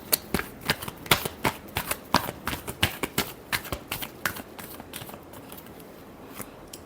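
Tarot cards being shuffled in a run of crisp, rapid riffling snaps that fade toward the end, close and fairly loud with no talking.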